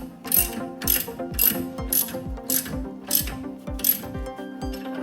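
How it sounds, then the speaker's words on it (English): A torque bar ratchets to tighten a strut nut on a 2007–2011 Toyota with a KYB Strut Plus, in repeated bursts of rapid metallic clicking, close and fairly loud in a steady back-and-forth rhythm. "that's when I'll use my torque bar"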